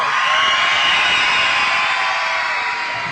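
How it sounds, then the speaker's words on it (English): Loud, steady crowd cheering from students at a school gathering in Dundas, a continuous wash of voices with whoops that holds strong for about three seconds with no pauses. "So I think we're going to have to cheer."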